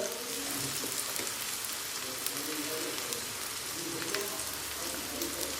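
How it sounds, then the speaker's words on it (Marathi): Rava-coated slices of suran (elephant foot yam) frying in oil on a tava, giving a steady, soft sizzle with fine crackles throughout and no voices. "या पद्धतीने आपण हे सगळे कापे छान तेलावर सोडून घेणार आहोत"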